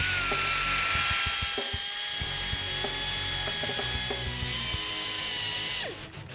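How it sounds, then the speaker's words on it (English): A die grinder with a stone bit chamfers the oil return holes in the lifter valley of an Oldsmobile 455 big-block engine. It gives a steady, close, high-pitched whine with brief bursts of loading and scraping, and it winds down at the end. "using the grinder and the stone, I'm going to chamfer the holes in the valley so the oil has a nice smooth passage back to the pan"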